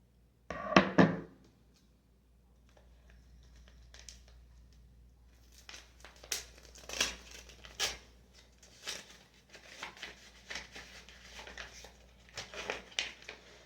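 An envelope sent from Clifton, New Jersey is slit open along its side, heard as a quick rustle and thunk followed by a long run of soft papery crinkling, scraping and tearing, moderately quiet throughout.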